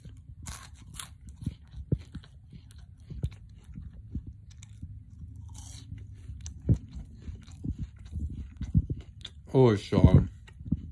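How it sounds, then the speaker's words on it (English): Arby's onion rings being bitten and chewed, crunchy bites and mouth sounds close up, with brief talk near the end. "I'm gonna try their onion rings first"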